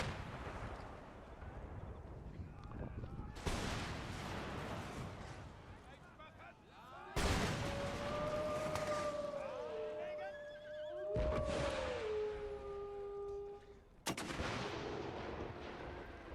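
Artillery cannons firing in the Empire: Total War strategy game, a string of loud booming blasts spaced a few seconds apart, each trailing off into rumble, with whistling projectiles and a voice talking over it.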